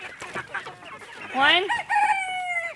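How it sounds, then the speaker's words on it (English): A rooster among laying hens crows loudly nearby, one full cock-a-doodle-doo with rising and held notes, after softer clucking and a brief spoken word. "he's the only one really crowing right now"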